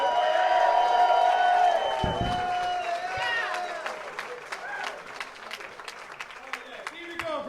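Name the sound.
comedy club audience cheering and applauding for the comic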